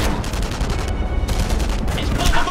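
Continuous rapid gunfire from a PPSH submachine gun and other weapons in the video game Enemy Front, loud and dense bursts filling the whole stretch with no pauses.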